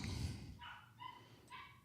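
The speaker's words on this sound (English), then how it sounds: "Guest appearances by a barking Seven the dog." Three or four sharp dog barks spaced about half a second apart, quiet and close, with a brief muffled thump at the start.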